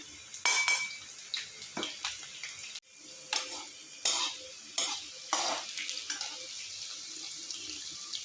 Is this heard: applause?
no